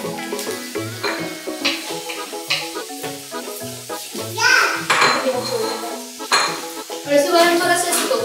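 Boneless chicken tipped into a pan of chili powder and spices, sizzling under someone talking while metal utensils clatter and stir against the pan.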